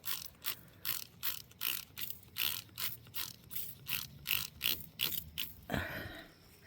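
A garden pump sprayer is pumped in a steady rhythm of about a dozen quick squeaky, ratcheting strokes, close by, ending in a short hissing rush.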